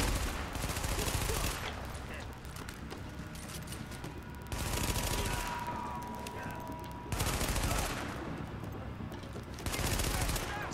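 Automatic weapon fire in The Division video game, loud sustained bursts recurring every few seconds with quieter stretches between, faint voices underneath.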